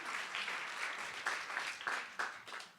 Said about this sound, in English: okay, clapping, yeah.